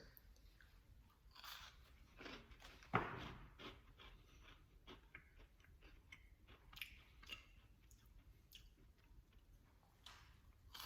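Crunchy cookie with a doughy center being bitten and chewed close up, a sharp crunch of a bite followed by several softer, quiet crunching chews.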